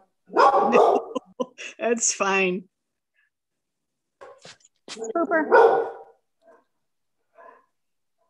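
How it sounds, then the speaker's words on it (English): A dog barks indoors during a photography class, giving a few sharp barks mixed in with nearby speech, then falling quiet before more talking. "Sorry for the dog."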